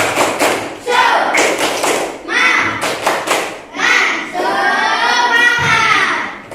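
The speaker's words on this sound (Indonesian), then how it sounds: "Sekarang biar tambah semangat, kita tepuk semangat dulu" A classroom of primary-school children performs a rhythmic clapping chant called tepuk semangat, with loud patterned bursts of claps alternating with voices chanting together.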